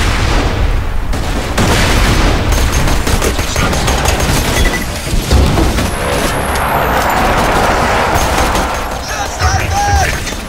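Loud gunfire and grenade explosions in Borderlands 2: a relentless stream of automatic shots layered with heavy booms, filling the whole ten seconds with dense, close combat noise.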